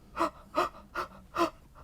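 A voice imitates panicked gasping from shortness of breath: four sharp, evenly spaced gasping inhales, close and moderately loud, with no other sound between them.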